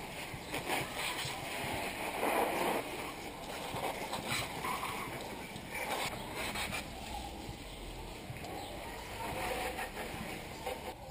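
Water is splashed and rinsed over a Yamaha FZ6 Fazer 600 motorcycle after its engine and wheels are cleaned, giving irregular spattering bursts and dripping at close range.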